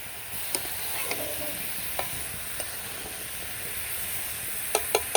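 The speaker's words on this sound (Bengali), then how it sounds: "সবজিটা ভালো করে কষিয়ে তারপর জল দিয়ে দিই" Vegetables sautéed in a pan before water goes in: a steady close hiss of sizzling with occasional sharp clicks of a spatula against the pan, and no voices.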